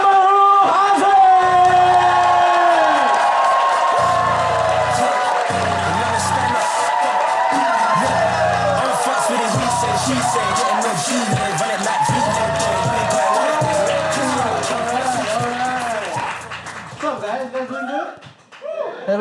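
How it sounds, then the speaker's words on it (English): A comedy special audience in Singapore cheers, whoops and claps loudly and continuously, with laughter and shouts mixed in, the roar fading toward the end, with voices over the crowd. "start going crazy, start cheering, start clapping. Go wild."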